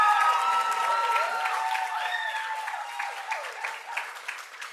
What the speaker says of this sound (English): So I want everyone to give them a round of applause because they've worked so hard.